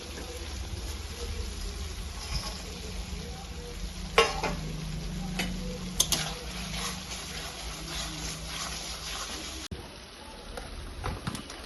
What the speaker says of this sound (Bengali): এখন ভাজা পনির দিয়ে দিবি।